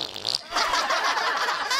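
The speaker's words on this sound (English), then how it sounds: "Now you farted during the closing argument!" A cartoon fart from South Park, let out in a courtroom scene during a closing argument: one loud, close, drawn-out blast after a short opening puff, heard alone with no talk over it.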